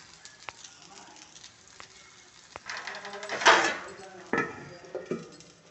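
Paddu cooking in oil in a covered pan, giving a soft, intermittent sizzle with a few clinks of the lid or pan, rising in the second half; quiet voices murmur in the background.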